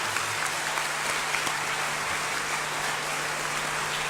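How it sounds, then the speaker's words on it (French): An audience at a prize-giving ceremony claps loudly for the pupils' parents, a dense, steady wash of applause that holds throughout. "Je voudrais donc qu'on les applaudisse très fort."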